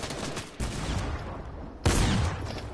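Shotgun and SMG gunfire in a video game: loud dense bursts of shots with a sharp onset partway through and a second heavy blast near the end, no talk.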